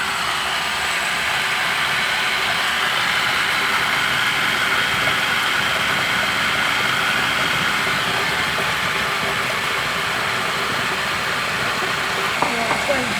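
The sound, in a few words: mixer motor blending cheesecake batter with buttermilk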